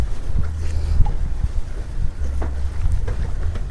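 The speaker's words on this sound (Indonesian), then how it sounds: "Wah, anginnya jadi agak kencang sekarang teman-teman." A strong wind blows outdoors beside water, rumbling and buffeting against the microphone in uneven gusts, with faint knocks and small background sounds.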